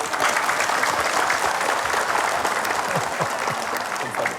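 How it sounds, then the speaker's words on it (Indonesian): Audience applause at an Islamic religious talk show, steady dense clapping throughout, fairly loud and close, with faint voices underneath. "Sudah cukup, Bu? Iya, tepuk tangan."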